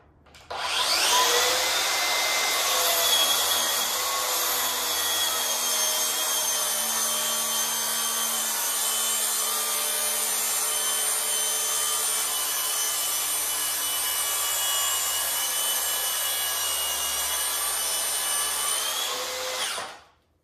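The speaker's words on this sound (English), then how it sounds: "leave the dust collection off so that you can actually hear how loud these saws are" A loud, continuous whine of a Milwaukee M18 or Makita 36V track saw cutting through a 2x12 pine board, steady for about twenty seconds before winding down, with no speech.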